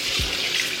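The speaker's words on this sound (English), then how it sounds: "I'm going to rinse my liver" Tap water runs steadily over beef liver being rinsed in a kitchen sink, a brief close splash with no voices.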